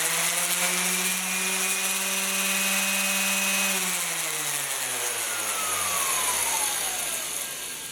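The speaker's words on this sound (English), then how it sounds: "I'm gonna run each sander just to give you an idea of the noise level of each one." A DeWalt sander runs at its highest speed, a loud, steady high-pitched whine close up that drops and winds down in pitch after a few seconds, with no speech over it.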